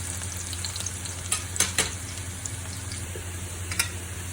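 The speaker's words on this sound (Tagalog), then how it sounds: "magigisa na tayo ng sibuyas, bawang para sa ating ginisang papaya with pusit" Onion and garlic sautéing in a pan for a papaya and squid stir-fry, a steady close-up sizzle of frying with occasional scraping stirs, continuous and fairly loud, no voices.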